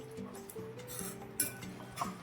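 Paneer curry being stirred in a pan after a spoonful of garam masala goes in, with soft spoon scrapes and light metallic clinks against the pan, quiet and close.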